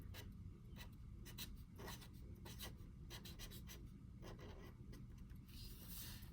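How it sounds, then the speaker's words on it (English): Pen writing on paper in a budget planner, a steady scratchy stroke pattern in short repeated bursts, close and fairly quiet, with no talking. "I'll just write income up here."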